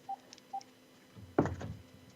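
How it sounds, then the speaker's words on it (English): A house phone sounds with two faint, brief electronic beeps, followed by a louder muffled clatter of handling, heard with no one talking. "I forgot to shut my house phone off."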